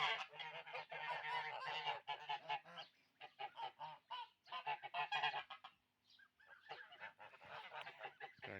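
Geese honk repeatedly and loudly, close by, in dense overlapping bursts with a brief lull near the end, where the goslings are out walking with them.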